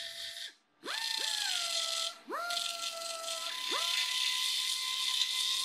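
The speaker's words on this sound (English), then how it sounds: "I'm using the finger sander and some 40 grit sanding belts." A finger sander with a 40-grit belt whirs and rasps against rusty metal on a BMW E30 Touring, spinning up three times after brief pauses, then grinding steadily up close.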